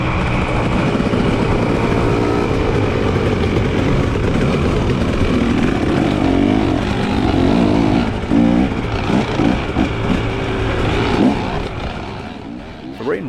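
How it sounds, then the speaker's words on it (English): A tuned KTM dirt bike rides a single-track trail, its engine droning loud and close with shifting revs throughout, and it eases off near the end. "I'm on my fancy, super reliable, hopped up, tuned KTM that never has a problem"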